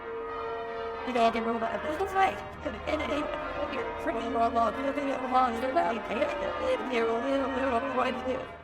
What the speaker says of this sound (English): The bells are ringing and the cameraman is taking it all in.